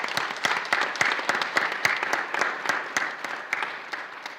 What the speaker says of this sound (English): So big round of applause for Beth.